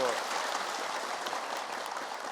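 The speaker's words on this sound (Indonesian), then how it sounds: "Boleh tepuk tangan" A studio audience at an Islamic religious talk show claps on the host's request. The applause is a soft, even patter that fades slightly toward the end, with no clear talk over it.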